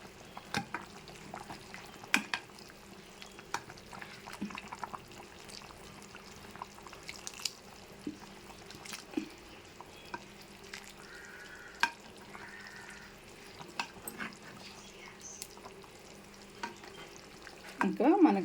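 Fish curry being gently stirred in a pan on the stove, with soft scraping and bubbling sounds that stay quiet and steady, broken by occasional small clinks.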